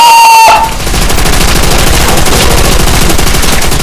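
Sustained machine gun fire in World at War, loud and continuous rapid bursts with a steady rattle after a brief tonal opening, with no talk over it.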